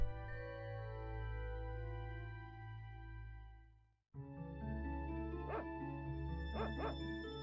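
Sacred dog in the video game Secret of Evermore, giving a couple of short barks late in the clip over sustained synthesized game music.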